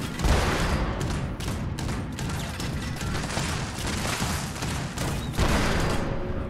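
Sustained rapid gunfire from a weapon emptying its magazine in the video game Fallout 76 forms a dense, loud, continuous burst with no pauses or speech.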